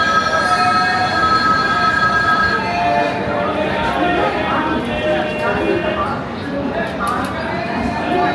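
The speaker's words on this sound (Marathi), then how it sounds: "तर मित्रांनो फायनली आता आपला ट्रेन आलेली आहे" A passenger train pulls into Bhusawal railway station, its wheels grinding and squealing along the rails in a loud, continuous rumble close to the platform, with crowd noise mixed in.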